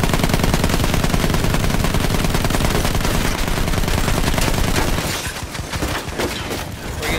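Sustained automatic gunfire rattles in Battlefield 1, a loud, rapid machine-gun stream that runs continuously for several seconds before breaking into scattered bursts and single shots.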